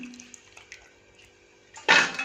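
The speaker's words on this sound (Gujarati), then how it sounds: "મિત્રો આપણે ગવારને એકદમ સારી રીતે 2 પાણીથી ધોઈ દીધો છે" Cluster beans (guar) are washed in water: a quiet stretch with faint clinks, then a sudden close splash and swish of water near the end.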